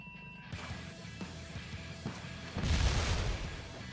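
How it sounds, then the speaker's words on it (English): Motorbike crashes and a heavy explosion in Trials Evolution: scattered thuds and knocks, then a louder booming blast that rumbles on near the end. "Explosions. Got it."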